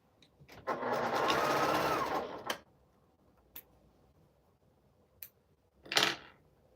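A sewing machine stitching three scrap quilt pieces together runs in one close burst of rapid stitching for about two seconds, followed by a few isolated clicks in near silence.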